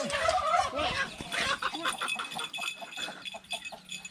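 Turkeys on a Thai village farm gobble and cluck in a loud, busy chorus close by, overlapping calls continuing throughout.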